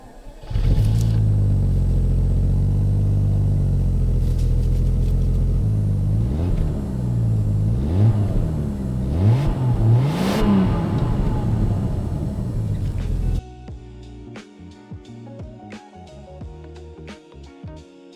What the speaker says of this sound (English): I think we best let that V12 speak for itself